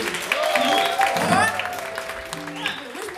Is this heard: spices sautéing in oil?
no